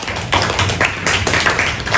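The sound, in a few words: class clapping for a student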